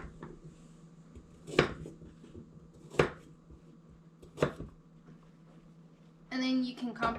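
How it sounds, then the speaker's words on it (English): Carrots are chopped with a knife on a cutting board: three single, crisp chops spaced a second or so apart, close and clear, before a voice begins speaking. "I'm going to start with chopping the carrots"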